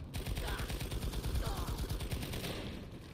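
Turret gunfire in Planetside 2, rapid repeated shots in a fast rattling stream that run continuously across the moment at moderate loudness.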